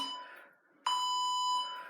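During a HIIT workout session, an interval timer gives a steady electronic tone that fades out, then a sharp loud beep that holds for about a second before tapering off.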